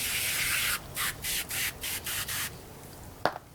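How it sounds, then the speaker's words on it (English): Oily bolts are scrubbed clean with CRC degreaser: a steady hiss of spray, then a series of short rhythmic rubbing strokes, ending with a single sharp knock, close and with no talking. "Let's get them cleaned up with a little CRC degreaser."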